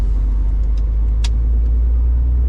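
Car racing fast past a truck on a road, a loud, close rumbling whoosh of engine and tyres that holds steady for a couple of seconds, with a low drone underneath.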